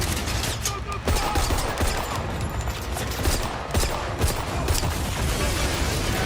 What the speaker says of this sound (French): J'ai sorti une mitraillette de mon froc, c'est parti, baby!